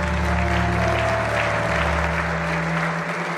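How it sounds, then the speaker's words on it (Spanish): Applause for the escape artist Harry Houdini in the video game An English Haunting, a steady wash of clapping over a low sustained musical drone. "Un aplauso, por favor."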